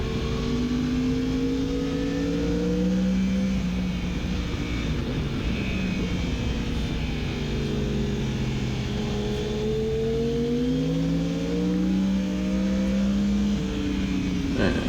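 A Yamaha R1M motorcycle on a race track accelerating hard out of the corner onto the front straight, a loud continuous engine drone with rising and falling revs and harmonics, close to the microphone, no talking.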